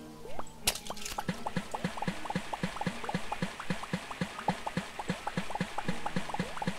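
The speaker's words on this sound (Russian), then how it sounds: "Воды наберем еще добавок." Water being collected in the video game Starbound: a steady, rapid series of bubbly plopping drips, evenly paced and continuous from start to finish, close and clear.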